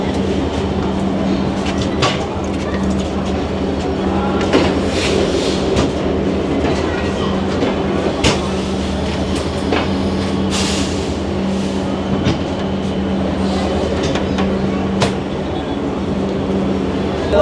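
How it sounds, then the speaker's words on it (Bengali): Sagardari Express passenger train on the Khulna to Rajshahi line, a steady low rumble from inside a carriage with a continuous engine drone, occasional rail clicks and metallic knocks, and faint voices in the background. "ট্রেন চালু হয়ে গেছে, এখনই হয়তো ছেড়ে দিবে।"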